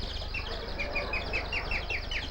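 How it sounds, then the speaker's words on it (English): A rooster crows several times in a rhythmic series of short, high calls over a steady low rumble of farmyard background, part of a 1962 stage comedy scene set in sunny countryside. "Cocks are crowing."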